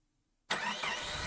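A car engine starts abruptly after a near-silent pause, catching at once and settling into a steady, close idle rumble with no voices.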